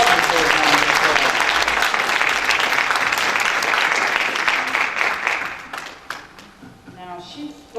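A crowd gives a sister a sustained round of applause after her talk, dense clapping filling the hall for about five seconds before thinning out and fading into a quieter room.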